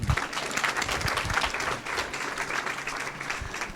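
An audience at a live mediumship event claps together, a short burst of warm, fairly dense applause at moderate distance.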